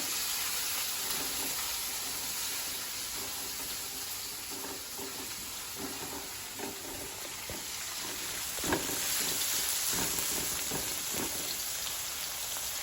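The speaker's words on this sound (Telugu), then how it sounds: "తర్వాత ఆనియన్ కూడా వేస్తున్నాను ఇవి మంచిగా గోల్డెన్ బ్రౌన్ కలర్ అయ్యే వరకు వేయించుకున్నాం" Onions frying in a pan until golden brown, a steady close sizzle and crackle running throughout with a few louder pops and stirring clinks, no talking.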